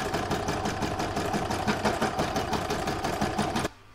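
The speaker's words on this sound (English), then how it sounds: "I'm going to pop it back into my machine and stitch round number 2." A sewing machine stitches a quilted seashell round of fabric and felt, running in a fast, even mechanical patter up close, then stopping abruptly.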